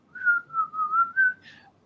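A person whistles a short melodic tune phrase, clear and close, with several sustained notes rising and falling and a brighter final note, with no talking.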